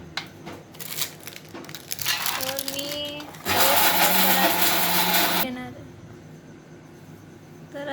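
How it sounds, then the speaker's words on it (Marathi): A mixer grinder roars loudly for about two seconds, grinding jaggery with a dense whirring clatter, then cuts off; voices are heard before and after. "गूळ आणलेला तर आहेच आता तो आपण बारीक करून घेत आहोत"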